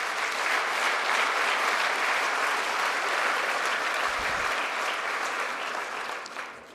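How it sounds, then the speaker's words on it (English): A crowd at the ribbon-cutting ceremony for the Cornell Tech campus applauds in a broad, continuous wash of clapping that holds steady and eases off slightly at the end, with no voices on top. "Let's have a round of applause for everyone who's been involved in this fantastic project."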